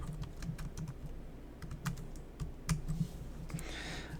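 Rapid keystrokes on a computer keyboard as a password is entered, a steady run of light clicks with a few sharper taps, close and clear over a low background hum, with no talking.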